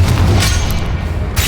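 A Confringo blast spell fires in a Harry Potter video game: a loud, sustained booming roar with deep rumble and crackling noise filling the whole clip.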